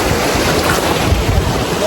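Sea water and surf at a beach on a Krabi island, a steady close wash of waves mixed with heavy wind rumble on the microphone, continuous and loud with no clear talk.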